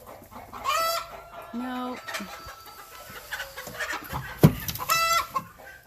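Laying hens clucking inside a barn around their nesting boxes, several close, busy clucks and squawks overlapping, with a brief spoken word from a person among them.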